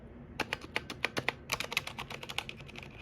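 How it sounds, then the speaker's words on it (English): Typing on an Everest mechanical keyboard fitted with speed silent red switches, a quick run of soft, muted keystrokes in an irregular rhythm, close by and fairly quiet. "I've got this in the silent reds, the speed silent reds. So if I give you a quick little sound test"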